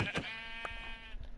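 A Minecraft sheep bleats twice in quick succession, a clear, nasal game sound effect heard close and alone over a faint background.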